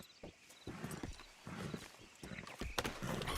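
A horse in Red Dead Redemption 2 clip-clops with uneven hoofbeats and gives a whinny, heard under faint background talk.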